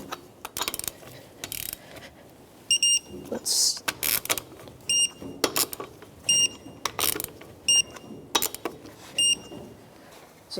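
A ratchet snugs up the lug nuts on a 2005-2010 Chevrolet Cobalt wheel in a star pattern, sounding as repeated bursts of quick clicking with short pauses between nuts, close and fairly loud.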